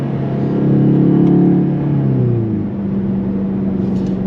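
A stage 1 VW Golf 8 GTI Clubsport four-cylinder engine revs up close and loud, rising to a peak then settling back toward a steady idle hum, with no voices.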